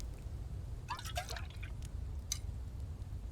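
Water splashes and trickles into a container in The Infected survival game, a short burst of dripping, filling sounds over a steady low background hum, fairly quiet with no talking.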